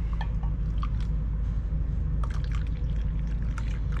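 Coffee is poured into a cup outdoors on a shore during night fishing, a close, continuous trickling pour with small drips and splashes against a low background rumble.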